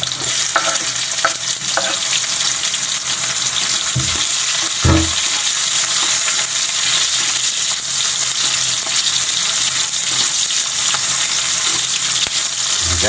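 Garlic and onion frying in a pan for a Filipino stingray dish make a loud, continuous hissing sizzle, with a few utensil knocks and scrapes early on and no talking.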